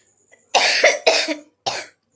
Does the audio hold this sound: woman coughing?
yes